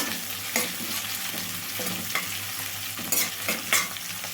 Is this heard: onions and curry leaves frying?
yes